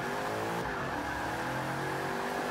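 A 650-horsepower Cobra 427 in Forza 5 kicks into an e-brake drift, its engine droning loud and steady with layered harmonics while the tires squeal throughout, close and unbroken.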